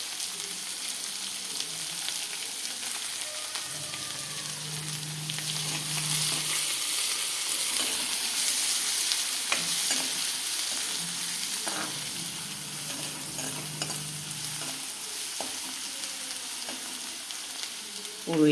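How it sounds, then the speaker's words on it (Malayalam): Chopped onion sautéing in a pan of oil after mustard seeds have popped, a steady close sizzle with occasional stirring scrapes and a low hum from the stove. "ഉള്ളി അരിഞ്ഞിട്ട് ഒന്ന് വഴലണം"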